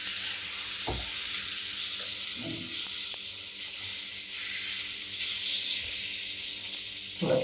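Moong dal pudla batter hisses and sizzles steadily on a hot pan as it is spread out for a Gujarati breakfast, a continuous close frying crackle with a few soft knocks of the utensil.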